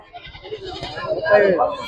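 A goat at a livestock market in Gudur gives a wavering bleat that rises and trails off near the end, preceded by low murmuring sounds.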